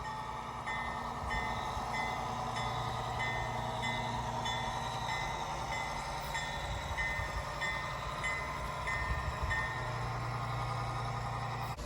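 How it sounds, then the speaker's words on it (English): A PIKO remote-control GE 25T model train rolls steadily along garden tracks at Carleton Place, giving a continuous low motor hum with a rhythmic clicking of wheels over rail joints, fairly quiet and heard alone. "the train is just coming onto the tracks at Carleton Place here"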